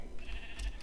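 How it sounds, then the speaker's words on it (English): A brown sheep in a video game bleats in a short, fairly close call, heard alone with no talk over it. "It's a brown sheep."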